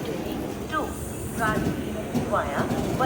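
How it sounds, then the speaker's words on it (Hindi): An Amrit Bharat Express train pulls out of Moradabad railway station, its rumble and wheel noise running steadily under someone talking, with short metallic squeals rising at intervals. "फिलहाल तो अपनी ट्रेन निकल चुकी है मुरादाबाद रेलवे स्टेशन"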